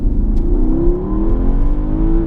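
A Porsche Panamera Turbo Sport Turismo with an eight-speed twin-clutch gearbox accelerates hard, its loud engine rising steadily in pitch through a close, continuous pull.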